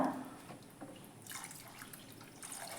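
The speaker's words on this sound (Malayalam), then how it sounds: "ഇതാ വെള്ളം കൂടെ ചേർത്ത് കൊടുത്തിട്ടുണ്ട്" Water poured into a pan of fish curry masala for a spicy river-fish curry, a soft steady splashing pour that swells partway through and keeps running to the end, close and moderately quiet, with no talk.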